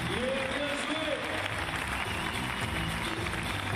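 A French crowd at the Paris 2016 climbing world championship cheers and applauds steadily, a continuous roar from spectators on their feet, with a commentator's voice running over it.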